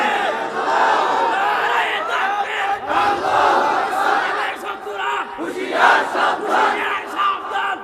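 A large crowd at a religious gathering in Bangladesh shouts a takbir chant of Allahu Akbar in loud, rhythmic bursts that rise and fall repeatedly.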